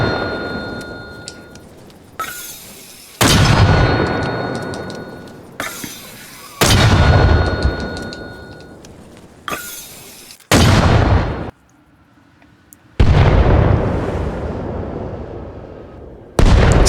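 Mortar rounds in Arma Reforger fire and land in a series of loud, heavy booms, each blast followed by a long rumbling decay, about seven impacts spaced a second or two apart.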